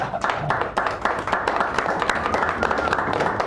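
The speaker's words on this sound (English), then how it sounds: "Bring them up with a nice round of applause, please." Applause from the audience at a poetry night in a San Francisco café, a steady patter of many hands clapping over background murmur as a duet is called to the stage.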